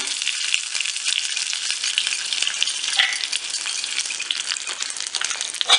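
Curry leaves and dried chillies sizzle and crackle steadily in hot oil after mustard seeds, a dense, close frying hiss with faint stirring for a special Tamil New Year feast.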